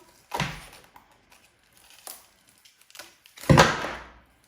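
Frozen vegetable stock cubes, made from vegetable scraps, being pushed out of a tray: a few sharp cracking snaps, with two louder bursts and scattered small ticks between them, close by and with no talking.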